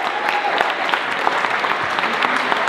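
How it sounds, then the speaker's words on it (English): Steady applause from a comedy show audience for volunteers called up on stage, dense and continuous clapping with no break for the full few seconds. "Let's give a round of applause for our volunteers."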